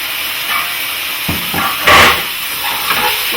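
Vegetable stock hits a hot pan where herb-stuffed trout is browning, setting off a loud, broad steamy hiss that swells midway, with a few clunks of cookware.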